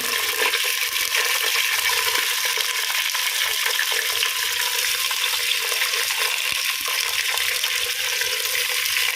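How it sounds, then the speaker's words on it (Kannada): Fish such as mackerel or sardine frying in plenty of hot oil: a loud, continuous, dense sizzle and crackle that stays steady throughout, close up and alone with no voices. "ಈಗ ಇದಕ್ಕೆ ಒಂದೊಂದೇ ಮೀನನ್ನು ಹಾಕಿ ಫ್ರೈ ಮಾಡಿ ತೆಗೆದರೂ ಆಗ್ತದೆ"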